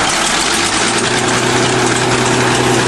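A huge bulldozer's engine drones loud and close as a deep, steady, vibrating roar that holds constant throughout, with no voices.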